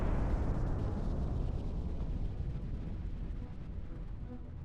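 A HIMARS strike explodes on an air defense system, heard as a heavy, rumbling blast that tails off into a long, fading roar.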